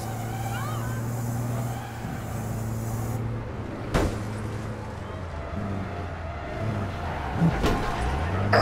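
A car driven in the online game APB Reloaded hums with a steady engine drone, with a couple of sharp thumps and scrapes from jumps and landings.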